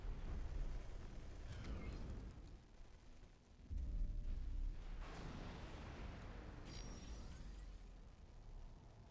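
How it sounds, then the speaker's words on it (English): A deep, rumbling explosion in the space game X4 Foundations booms out, followed by a second heavy burst and a long rolling roar that slowly fades. "Explosion imminent."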